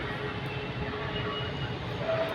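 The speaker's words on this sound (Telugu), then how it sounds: "చూశారు కదా ట్రైన్ ఎలా పోయింది?" Train rolling past at a steady continuous rumble, moderately distant and even in loudness, with faint metallic tones over the broad noise and no talking.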